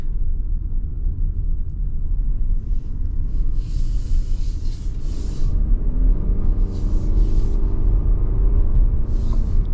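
A 2026 Toyota Highlander XSE with a four-cylinder engine accelerating, a steady loud low rumble with rising engine drone from inside the cabin, no talk.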